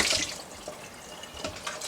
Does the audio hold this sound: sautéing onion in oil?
no